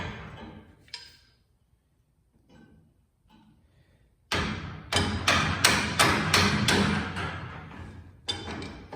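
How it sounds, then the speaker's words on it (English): A large wrench loosening a bolt on a secondhand trailer gives a sudden run of loud, close, broadband bursts, about six rapid repeated impacts in a rattling cluster, then a short pause and another burst, following a quiet stretch of faint knocks. "While I'm loosening this bolt"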